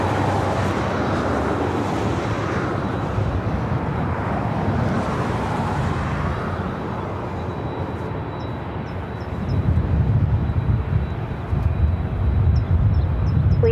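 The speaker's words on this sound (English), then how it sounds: "You're looking at Delta Airlines flight 1115 heading to Raleigh, Durham at 737 at 900 ER." Delta Airlines Boeing 737-900ER jet at LAX airport, a loud sustained roar of jet engines with broadband rumble that swells stronger toward the end, no voices.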